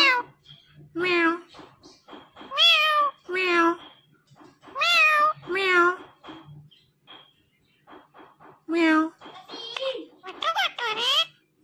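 A talking parrot imitates a cat, giving a long series of loud, close meows in repeated bursts with short pauses between them.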